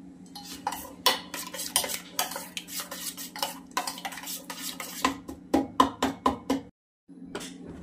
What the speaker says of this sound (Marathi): आपण हे असं मिक्स करून घेऊया सगळं